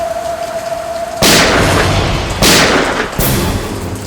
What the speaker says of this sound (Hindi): ये कहीं गोली चली है।